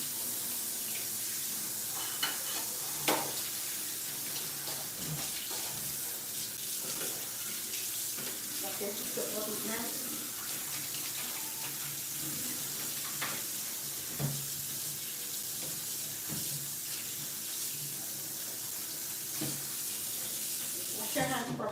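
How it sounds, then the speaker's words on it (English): Water runs steadily from a kitchen tap while hands are washed, a continuous hiss with occasional splashes and clinks, fairly close, with people talking intermittently over it. "I'm going to wash my hands."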